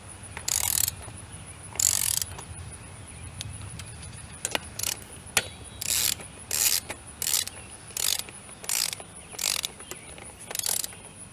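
A ratchet tightens beadlock ring bolts on a wheel, giving a run of about ten rhythmic clicking ratchet bursts, close and crisp, with short pauses between strokes and no talk.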